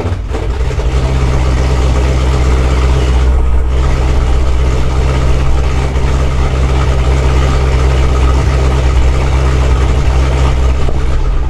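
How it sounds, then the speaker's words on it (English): A Dodge Scat Pack fitted with a forged 426 HEMI V8 idles inside a closed garage, a loud, constant low rumble with a steady throb that holds without change throughout. "it's really only like super loud when the car first starts up"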